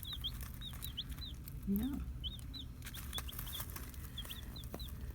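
Young chicks chirp over and over in a brooder on a small farm, a quick run of thin peeps at moderate level above a low steady hum, with one brief word spoken midway.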